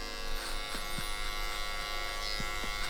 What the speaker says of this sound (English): So we're gonna take our clipper open,